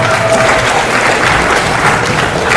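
Loud, dense applause from a university engineering lecture audience as a class session ends, a continuous wash of many hands clapping close by, with no talking over it.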